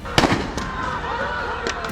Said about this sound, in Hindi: इसी दौरान फिर गोली चलती है।